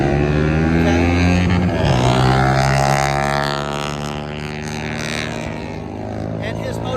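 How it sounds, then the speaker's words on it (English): A loud motorcycle engine droning steadily nearby, its pitch sliding and shifting as it revs, fading slightly toward the end. "his motorcycle is way too loud"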